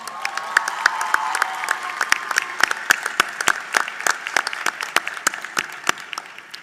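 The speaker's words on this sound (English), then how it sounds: "Let's give them a round of applause." Commencement audience at a 2018 Johnson & Wales University North Miami graduation applauding graduates' families, a steady crowd clapping throughout with sharper individual claps standing out, no speech over it.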